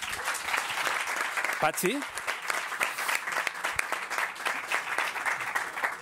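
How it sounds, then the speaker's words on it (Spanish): Audience applause at a Campus Party web presentation, steady broad clapping throughout with a short spoken word and a brief whistle-like tone cutting through near the middle. "¿Y ese aplauso?"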